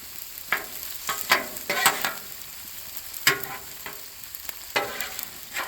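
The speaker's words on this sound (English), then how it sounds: "And let's get that stirred up in there good." Alfredo sauce with creamy basil being stirred on a hot Blackstone griddle: a steady sizzle broken by repeated scraping strokes of a spatula, close and clear, with no voices.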